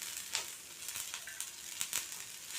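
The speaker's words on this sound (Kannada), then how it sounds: "ಆ ಕೊತ್ತಂಬರಿ, ಕರಿಬೇವು ಹಾಕ್ಬಿಟ್ಟು ಚೆನ್ನಾಗಿ ಫ್ರೈ ಮಾಡ್ಕೋಬೇಕು" Coriander, curry leaves and dry coconut frying in a pan give a faint, steady sizzle with scattered soft crackles and stirring scrapes, heard alone without talk.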